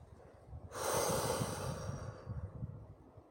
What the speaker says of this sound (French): Et puis on prend une grande inspiration. Et on lâche tout.